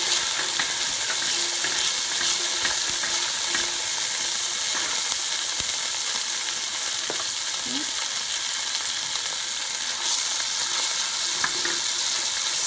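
Ginger and garlic sizzle steadily in a hot pan, a continuous crackling fry with occasional soft stirring scrapes and clinks, close and fairly loud with no talking.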